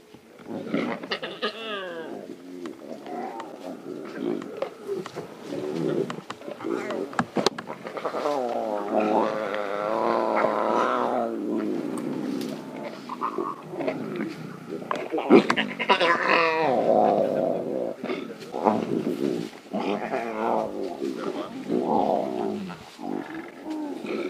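Lion cubs growl and snarl near a kill on an African safari at sunrise. The low, rumbling growls are close and continuous, broken by a few louder snarls, while people talk quietly over them.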